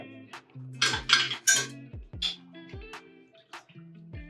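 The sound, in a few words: stirring blueberry tea inside a jug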